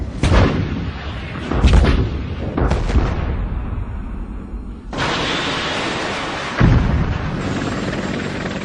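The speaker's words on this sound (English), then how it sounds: "Arm this missile, I'll shoot down range." A missile launched down range during the Gulf War roars and explodes in several heavy booming bursts, followed by a sustained loud rushing blast and a second sharp impact, loud and close without speech.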